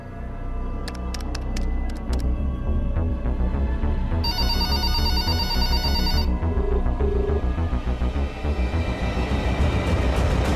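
A telephone rings with a bright electronic trill for about two seconds, loud over a steady rumbling background with faint clicks.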